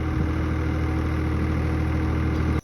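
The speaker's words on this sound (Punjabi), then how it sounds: "ਪਿੱਛੋਂ ਟਰੈਕਟਰ ਦਾ ਪੂਰਾ ਜ਼ੋਰ ਲਾਉਂਦੇ ਆ" A tractor engine stuck in rain-soaked ground strains at full power, roaring loudly and steadily, a dense unbroken low rumble that cuts off abruptly at the end.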